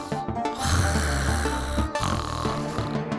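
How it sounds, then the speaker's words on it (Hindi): A cartoon character snores while sound asleep, with loud, drawn-out rasping snores in two long breaths over a busy musical background. "यहाँ खर्राटे मारकर बड़े मजे से सो रही है"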